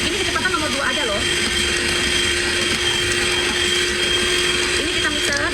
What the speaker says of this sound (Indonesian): Ini kita mixer, jangan sampai kaku.